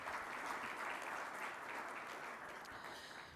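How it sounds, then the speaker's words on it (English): Business summit audience delivering a sustained, even round of applause for event partners, a dense wash of many hands clapping from a distance that tapers off slightly at the close. "Please give them all a big round of applause."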